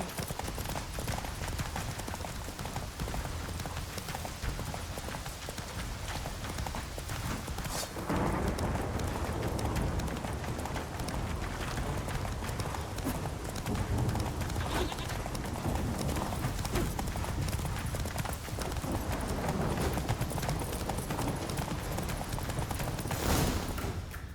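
Galloping horse hooves in The Witcher 3 pound in a continuous fast rhythm through a loud, dense mix of chase noise lasting the whole stretch.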